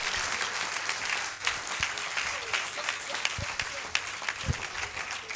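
Audience applause welcoming the SRC president of Koforidua Technical University at a live Success Africa Summit event, steady sustained clapping from a crowd with a few louder individual claps standing out.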